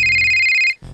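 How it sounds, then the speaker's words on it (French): A mobile phone ringtone rings loudly with steady bright electronic tones, then cuts off abruptly and gives way to a lower murmur of background sound. "Le téléphone de Dil sonne"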